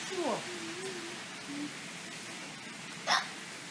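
A person hiccups at a miniature train layout with a quiet room murmur behind, a couple of short squeaky hiccup sounds near the start followed by a sharper one near the end.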